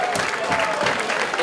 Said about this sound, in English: round of applause for these two pugilists.